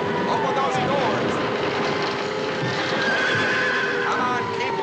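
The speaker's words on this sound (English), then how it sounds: "Get the horses out. Put them over the horseway." Several Lipizzaner horses whinny and neigh while hooves clip-clop steadily on a hard floor, a loud, busy scene with shouting voices and a constant background rumble.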